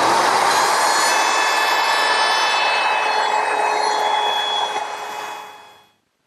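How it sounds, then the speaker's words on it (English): A router fitted with a 1/4-inch round-over bit cuts the edge of a wooden coffee table top, a loud steady high-pitched whine with rough cutting noise that winds down at the end. "I'm just going to round over the outside corner with a 1/4-inch rounding over bit in my router."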